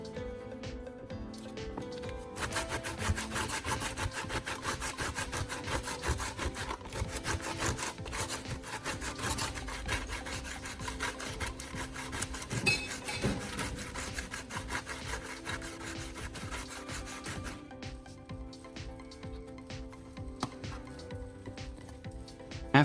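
Steady rubbing rasp of fine sandpaper worked back and forth over hardened plastic filler on a broken plastic repair, continuous and close up, with no talking.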